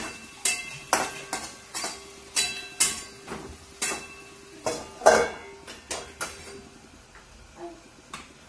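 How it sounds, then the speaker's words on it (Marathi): A lid goes onto a pot of potatoes cooking in salted water, with a series of sharp, close metallic clinks and taps, some ringing briefly, spaced irregularly throughout. "मी झाकण ठेवणार बटाट्यावर"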